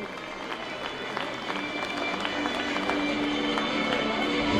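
A crowd claps continuously for a prize-winning child at a school annual day, a steady, dense patter of applause throughout that builds slightly toward the end.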